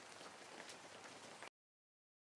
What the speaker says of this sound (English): Pitter-patter, hear the sound.